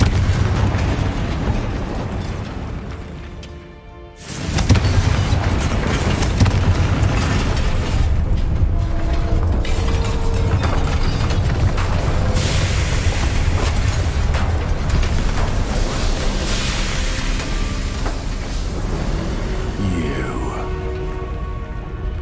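A Confringo fire explosion spell bursts loudly in the game Hogwarts Legacy after a brief lull, followed by a dense, sustained roar of crackling debris and game noise that carries on for many seconds.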